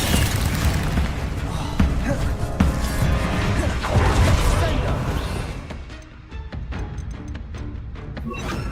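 A Descendo spell slamming down in a Harry Potter video game, a loud crashing boom with heavy smashing impacts and debris that fades into scattered rattling hits.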